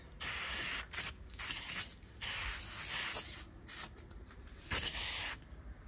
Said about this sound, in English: Also gonna spray it,